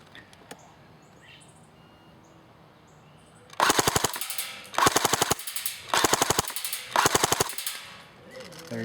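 An Umarex H&K G36C airsoft AEG fires full auto in four quick bursts of rapid mechanical clatter after a few quiet seconds, close and sharp, with faint birdsong in the background.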